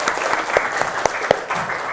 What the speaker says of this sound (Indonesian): tepuk tangan untuk Syifa.